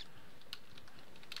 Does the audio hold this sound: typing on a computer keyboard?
yes